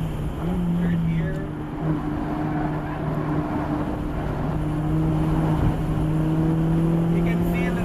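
A Mazda Miata's engine pulls hard at full throttle in third gear on a wet race track, a loud steady drone with rising harmonic lines, heard from inside the car with road and spray noise beneath.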